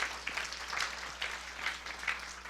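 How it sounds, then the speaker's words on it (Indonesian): Applause from a church congregation during a sermon by Ps. Gilbert Lumoindong, a diffuse, moderately faint patter of many hands rising and falling in small swells over a couple of seconds. "Yang setuju berikan tepuk tangan yang beri."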